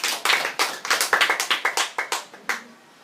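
Audience members at a high school debate clap for a debater, a short burst of crisp, distinct claps in a quick, somewhat regular rhythm that thins to a last lone clap.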